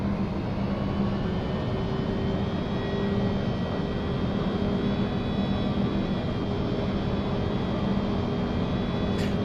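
Steady, loud jet engine roar of an Embraer E175 climbing out after takeoff in the X-Plane 11 flight simulator, a continuous broadband drone with faint tonal whine, unbroken and with no talk.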